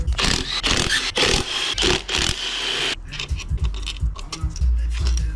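Bolts being loosened and removed from the throttle body of a 2015 Honda Civic Si, with dense metallic ratcheting and scraping up close for the first half, then lighter clicks and rattles of tools and parts.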